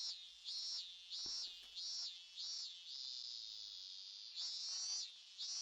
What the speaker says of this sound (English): I think the cicadas are announcing the arrival of summer.